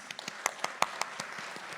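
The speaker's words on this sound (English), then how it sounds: "A big round of applause for all the co-hosts and partners." A handful of sparse, distinct claps at a carbon pricing conference, applause for co-hosts and partners starting up quietly in a hall, individual hands audible rather than a full ovation.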